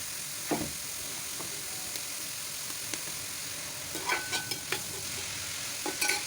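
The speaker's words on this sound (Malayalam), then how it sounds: "പിന്നെ അങ്ങനെ സവാളയൊക്കെ നന്നായിട്ട് വഴറ്റിയെടുത്തിട്ടുണ്ട്." Sliced onions sauté in a pan, giving off a steady close hiss of frying with scattered stirring clicks and a few louder scrapes of the utensil.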